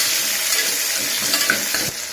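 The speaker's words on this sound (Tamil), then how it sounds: "வெங்காயம் போட்டுக்கலாம். நல்லா வதக்கி விடுங்க." Onions sizzle and fry in a pan with mustard seeds and curry leaves, a dense, steady hiss with occasional stirring scrapes and soft clinks, close and loud throughout.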